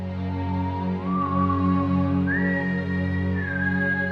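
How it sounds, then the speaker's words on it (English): A clear, sustained whistled melody glides upward in a few long held notes over a steady low musical drone. "The whistling, that has to be in there."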